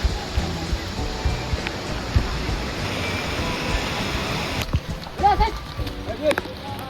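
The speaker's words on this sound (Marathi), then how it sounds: "इथून एक उंचावरून वॉटरफॉल येत आहे." Steady broadband rush of a waterfall dropping from a height into a river near Kedarnath, with voices and footsteps-like clatter rising near the end.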